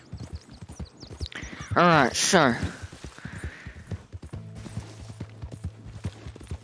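Horse hooves clip-clop at a steady walking pace in the Red Dead Redemption 2 game, with a brief loud whinny-like burst near the middle and someone talking over the sound.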